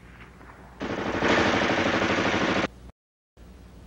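An M2 carbine firing full automatic, a single loud close burst of rapid, evenly spaced shots lasting about two seconds, followed by a brief silence.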